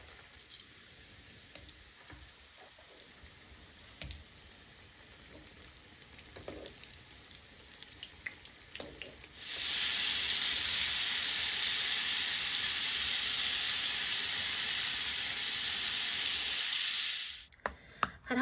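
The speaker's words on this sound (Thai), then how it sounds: "พอน้ำมันร้อนนะคะเพื่อนๆเราก็ใส่ตัวชีสสติ๊กของเราลงไปได้เลยค่ะ" Cheese sticks dropped into hot oil in a pan over medium heat break into a steady, loud sizzling frying hiss that runs for several seconds, after quieter kitchen handling noises.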